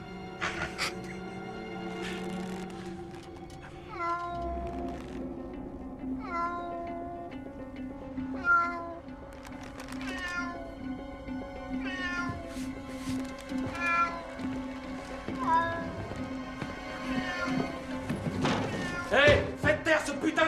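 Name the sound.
cat meowing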